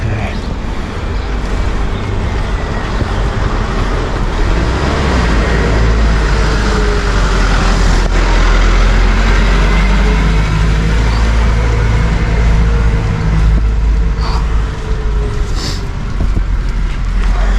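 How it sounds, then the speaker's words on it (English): A car passes on a steep road during a hard uphill climb on the Höttinger Höll, its broad engine and tyre rumble swelling and fading under steady wind and breathing noise. "Car comes again."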